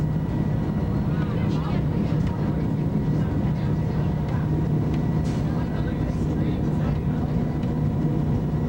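A steady, heavy mechanical rumble and rattling of the Pikes Peak cog railway train climbing in Colorado, continuous throughout, with a low droning hum.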